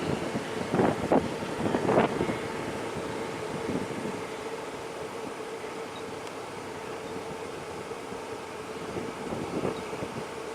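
Steady wind roars and buffets the microphone throughout, with a few louder gusts near the start.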